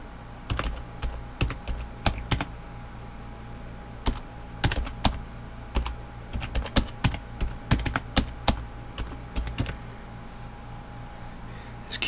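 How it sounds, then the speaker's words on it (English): Rapid, irregular typing on a computer keyboard with a faulty M key, crisp close keystrokes in uneven bursts with brief pauses, no talking. "this dumb keyboard, the M key doesn't work half the time"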